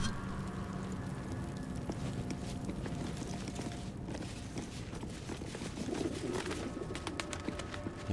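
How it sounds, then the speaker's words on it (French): Pigeons or doves coo softly amid a busy outdoor ambience in the game Baldur's Gate 3, faint calls under a steady rustling background with occasional light footsteps. "Il y a des oiseaux."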